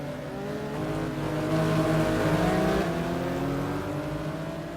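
Porsche Cup race cars in the racing game RACE drone steadily at speed, several engines layered with rising and falling revs, a continuous mid-distance roar with no talk over it.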